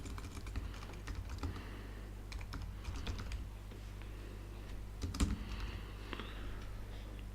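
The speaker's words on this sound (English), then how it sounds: "So as part of my global edit, I may wish to write a note to confirm that the account manager update was run." Typing on a computer keyboard while entering a note in Maximizer CRM software, a steady stream of light clicks with brief pauses and one sharper keystroke partway through, close and fairly quiet with a low hum behind.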